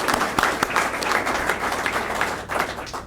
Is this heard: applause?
yes